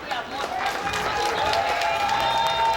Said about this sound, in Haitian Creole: un gros applaudissement, s'il vous plaît